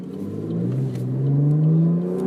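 A modified 2013 Chevrolet Camaro V6 with aftermarket intake and exhaust accelerates hard, its engine note climbing steadily in pitch over a couple of seconds, loud and close with no talking.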